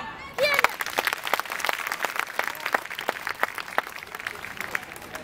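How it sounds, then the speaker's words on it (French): An audience applauds warmly after a slam poetry performance, a dense sustained patter of clapping with a few sharper individual claps, close and steady throughout. "on l'applaudit très très fort"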